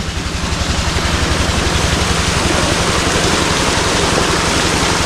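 A diesel engine drives an irrigation water pump, running hard at high throttle with a loud, steady, throbbing drone that continues without a break.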